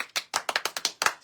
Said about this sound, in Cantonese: 我哋俾啲掌聲先啦